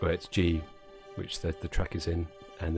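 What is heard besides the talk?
No distinct noise like a dog, phone or traffic.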